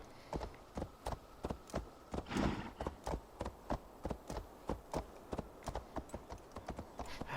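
Reindeer mount galloping in Assassin's Creed Valhalla, a steady run of sharp, evenly spaced hoof clip-clops close up, with a brief burst of breathy noise partway through and no talk.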